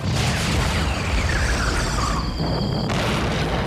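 Loud explosion from a staged stunt in a 2004 French TV prank show, a sustained, dense roar of blast noise filling the whole stretch without a pause, with no voices.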